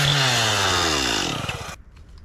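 A chainsaw cuts into a large tree during a 150 ft tree takedown, its engine running loud and steady before the pitch drops and the saw winds down to idle.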